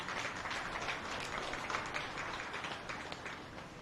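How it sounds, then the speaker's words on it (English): Steady applause from spectators at a beef cattle heifer show, the clapping sustained and moderately distant, filling the space without any voices over it. "You give yourself a round of applause"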